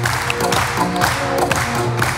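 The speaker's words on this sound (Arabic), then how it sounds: "دي جي نحب تصفيقة كبيرة على صادق حلواس" Applause from a television studio audience during a Tunisian comedy variety show, a short burst of dense, loud clapping with a few cheers mixed in.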